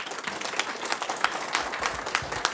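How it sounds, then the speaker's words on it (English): Applause from an audience at a city council meeting, a steady mass of clapping hands filling the room with sharper individual claps popping through, moderately loud and continuous without speech. "I'm going to ask you not to clap"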